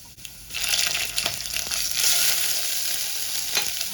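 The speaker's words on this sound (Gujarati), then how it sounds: "આદું મૂકીને આદુને સતળાવી લેવાનું." Ginger sautéing in hot oil in a pan with red chilli and coriander-cumin seasoning, a continuous bright sizzle with occasional stirring clicks, fairly close and steady, no voices.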